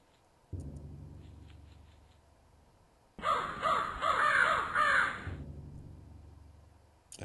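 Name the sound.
crow cawing in Cube Escape video game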